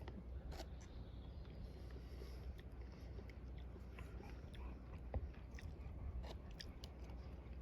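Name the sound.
chewing and eating hearty chickpea dish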